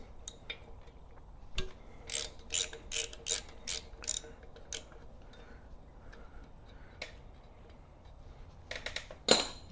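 A hand ratchet clicks in quick bursts while loosening the wheel cylinder bolts on a 1972 Pontiac GTO rear differential, close and crisp, with quieter handling sounds in between.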